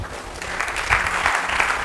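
Applause from a seminar audience, a bright, crowded spatter of clapping that swells midway and stays steady for a couple of seconds, heard at moderate distance in a large room with no voices over it.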